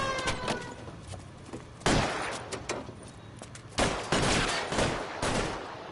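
Shotgun blasts in L.A. Noire Remastered on PS4, loud separate booms among ongoing gunfire, with almost no voices.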